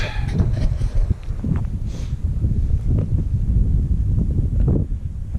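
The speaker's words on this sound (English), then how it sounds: "A little breezy up here" Strong wind buffets the microphone on the exposed summit of West Mountain Peak in Utah's Beaver Dam Mountains, a loud, continuous roaring rush with gusty surges and no talking.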